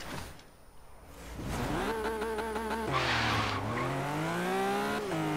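Toy Hot Wheels cars racing along a track, a steady whirring roll with rising and falling tonal whine and squeal-like sweeps running continuously and fairly loud, close by.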